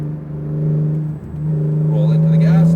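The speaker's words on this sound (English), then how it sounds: "Come off that brake, roll back into the gas, nice smooth acceleration" Acura NSX accelerating on a Las Vegas race track, a steady loud engine drone that dips briefly then builds smoothly in pitch and volume, with a driving coach talking over it.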